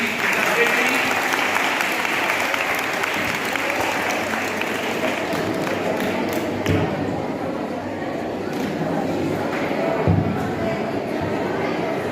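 A school audience at JNV Akkalkuwa applauds continuously to welcome a well-known Kathak dancer, with dense, loud clapping and a few sharper thuds that carry on without a break.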